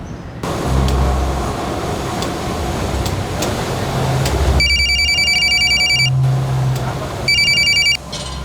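A telephone rings in bursts of repeated electronic trills, separated by pauses, over steady background rumble and noise.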